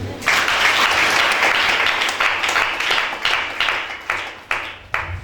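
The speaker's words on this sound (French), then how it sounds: "Acclame Charles." A church congregation breaks into loud, sustained applause, many hands clapping together, then thins into scattered, individual claps toward the end.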